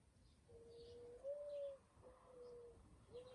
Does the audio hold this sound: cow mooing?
no